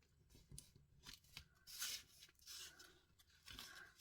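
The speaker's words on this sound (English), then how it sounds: "folding it down." Thin card-weight paper folded and pressed for an origami lily, giving soft crinkling and rubbing rustles with a few sharper creasing snaps, close and fairly quiet, with no voice.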